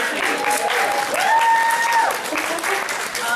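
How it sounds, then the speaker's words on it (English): Applause from the audience at an anime convention panel fills the room steadily, with voices and cheers mixed into the clapping. "Round of applause."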